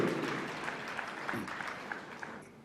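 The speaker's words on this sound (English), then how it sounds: "Can we have a round of applause for Dr. D. Nagaraja, the chairperson for today?" Moderate applause from a conference audience greeting a session chairperson, even clapping that slowly thins and fades toward the end.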